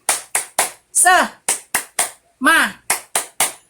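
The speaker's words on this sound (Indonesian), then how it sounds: "Yuk kita tepuk semangat dulu" Rhythmic spirit clapping in a classroom, sharp claps in a patterned beat broken twice by short chanted voice bursts, close and loud.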